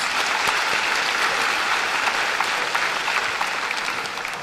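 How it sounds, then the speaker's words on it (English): A crowd at a high school graduation applauds steadily throughout, a dense, even wash of many hands clapping close and fairly loud. "Clap your hands, please."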